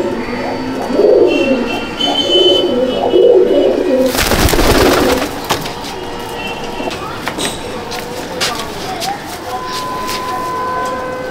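Pigeons coo repeatedly inside a pigeon loft, soft and close, before a sudden loud rustling burst like flapping wings; quieter coos and scattered clicks follow, with a person talking at times.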